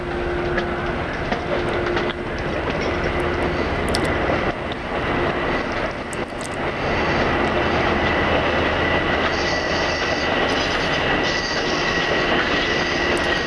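An eastbound Long Island Rail Road train passes at Sunnyside, a loud continuous rumble of rolling cars with clicking wheels and brief squeals, steady throughout with no talk.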